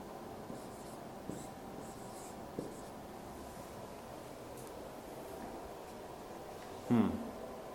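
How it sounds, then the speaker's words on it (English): A pen scratches softly as a calculus math problem is written out by hand, with faint continuous strokes, quiet and close, and a slightly louder tap near the end. "Let me first write this"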